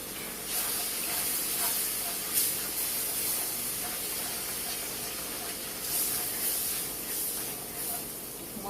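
Milk poured into a hot pan of sausage gravy and stirred, giving a steady close sizzling hiss with a few faint clinks throughout.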